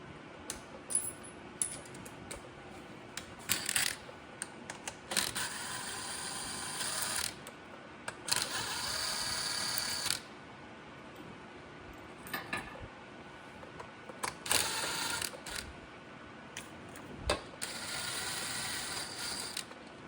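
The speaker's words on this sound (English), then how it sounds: "So let's loosen them bolts up so we can get it locked back around." A ratchet loosens bolts on an LS engine fitted with a Holley front runner drive, clicking in several quick bursts of rapid pawl ticks, close and fairly loud, with faint metallic handling between them.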